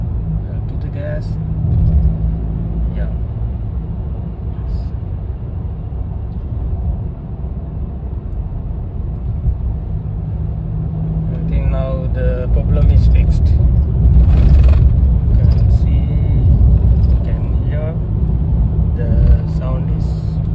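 A vehicle fitted with a roof light bar drives at around 40 to 50 km/h and then speeds up, its steady low road rumble and engine drone growing louder, with a person talking over it in the cabin.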